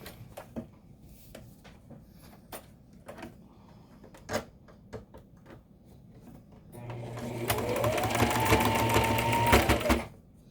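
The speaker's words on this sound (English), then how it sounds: "Does it sound like that because it's just going through a lot of stuff?" A sewing machine stitches through thick folded fabric casing for mask ties, a fast loud mechanical whir with rising pitch after several seconds of quiet handling clicks and taps.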